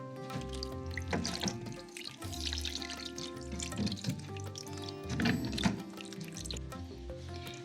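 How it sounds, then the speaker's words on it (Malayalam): Hot water poured into a mixture for a Kerala sadhya kingfish curry, a soft trickling splash running steadily for several seconds over quiet background music, close and fairly gentle. "ഒരു സ്വല്പം ചൂടുവെള്ളവും കൂടി ഒഴിച്ച് ഇത് നന്നായിട്ട് മിക്സ് ചെയ്ത് ഈ മീനിലേക്ക് ഒഴിച്ചു കൊടുക്കുകയാണ്"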